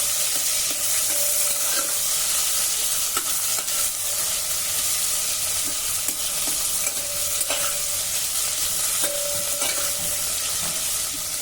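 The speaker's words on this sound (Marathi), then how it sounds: "आता हा कांदा आपण 2 मिनिटांसाठी जरा परतून घेऊ।" Sliced onions sautéing in oil in a pan, with a steady dense sizzle running throughout and occasional scrapes and clinks from stirring, close and fairly loud with no talking.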